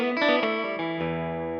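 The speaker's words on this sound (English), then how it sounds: "it's called a rake, where you just kind of drag through the strings like that" A quick electric guitar rake, the pick dragging across several strings in a fast ripple of notes that resolves into a ringing, effects-heavy sustained tone.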